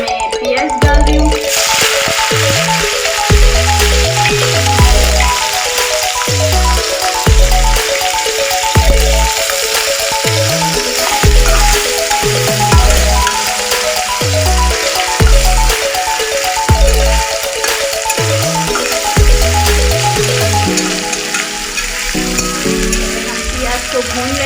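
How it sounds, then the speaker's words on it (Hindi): Onions frying in hot oil for a duck masala gravy, a steady close sizzle running throughout with some stirring and rattling, while music plays loudly over it. "प्याज को भून लेंगे"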